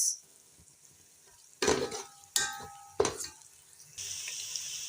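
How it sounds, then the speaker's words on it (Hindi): Spices including ajwain, garam masala and black pepper are stirred with onions in a frying pan, with three loud scraping stirs over a bubbling sizzle that swells into a steady fry at the end. "तमाम मसाला को अब हम करेंगे इस तरीके से मिक्स।"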